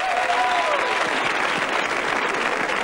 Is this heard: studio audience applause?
yes